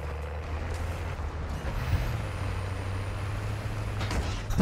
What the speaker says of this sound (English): This car is so loud and I'm running everybody over